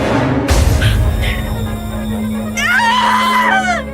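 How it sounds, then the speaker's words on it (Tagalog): A woman's scream used as a horror-story sound effect, rising sharply and piercing for about a second near the end, set over a dark ambient drone and earlier low rumbling. "biglang napaatras si Anne habang sumisigaw"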